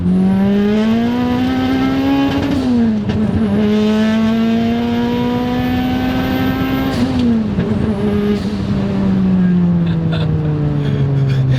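A big-turbo Pontiac Vibe engine pulls hard under boost, its loud, close drone climbing in pitch through the gears with short dips at each shift and a high turbo whine above it, with no talking.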